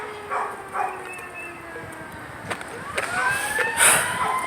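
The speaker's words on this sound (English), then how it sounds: "And that siren's really annoying." A siren wails outside, faint and distant, its rising and falling tones drifting in and out under scattered thumps and background noise.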